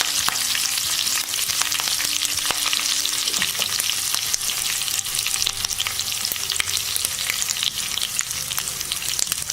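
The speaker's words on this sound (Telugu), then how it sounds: "ఇలా తాలింపు వేగాక దీనిలో కరివేపాకు వేసుకుందాం." Tempering spices sizzling in hot oil with asafoetida, a bright continuous crackle and spatter, close and loud, with occasional stirring clicks and no talking.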